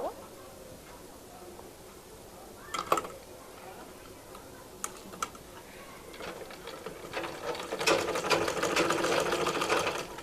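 A sewing machine stitches around the bottom hem of a baby frock, starting with a few isolated clicks and then building into a steady, rapid whirring run of stitches near the end.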